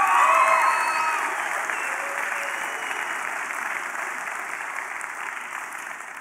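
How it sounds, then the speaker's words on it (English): Applause from a church congregation during a wedding ceremony at a New Year service: dense, steady clapping that starts loud and eases slightly, continuing unbroken to the end. "you can clap"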